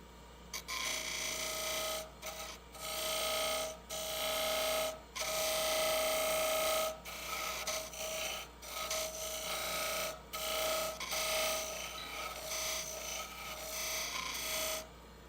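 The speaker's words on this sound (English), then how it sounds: "back with the skew, using this as a scraper, coming in." A skew chisel used as a scraper inside a wooden lidded box spinning on a lathe gives a rasping, scratchy scrape in repeated bursts with short pauses, close and fairly loud, no talking.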